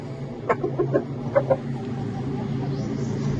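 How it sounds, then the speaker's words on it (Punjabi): A yellow rooster clucks in a short series of distinct, fairly close calls early on, then falls quiet against a low background hum. "ਤੇ ਹੁਣ ਇੱਕ ਹੋਰ ਪੀਲਾ ਮੁਰਗ ਹੈਗਾ"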